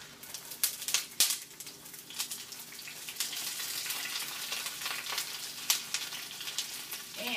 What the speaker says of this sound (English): we're going to stir fry it for about 3 minutes until it turns nice and golden